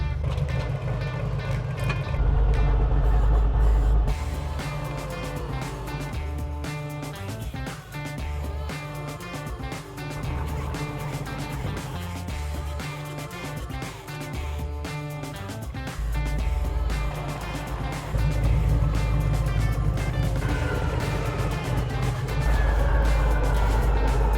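An old truck engine runs steadily with a deep low rumble that swells and eases several times as it strains, loud and continuous throughout with no talk.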